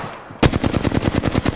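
Rapid automatic gunfire from the video game Apex Legends erupts after a brief quiet lead-in, a steady loud burst of evenly spaced shots that continues to the end.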